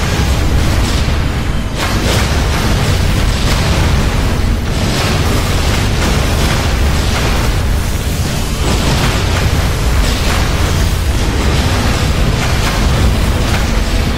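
Dense, continuous rumble of heavy cannon booms and blasts in the online game Revelation Online during a clan war, overlapping without pause, loud and chaotic like a battle raging.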